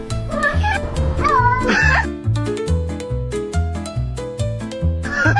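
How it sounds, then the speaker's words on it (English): A cat meows in a voice uncannily close to human speech, with a few drawn-out, pitch-sliding calls over steady background music. "This cat's meow is so close to human speech, it's honestly a little creepy, and kind of adorable."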